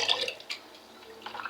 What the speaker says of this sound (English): Now I'm washing the rice.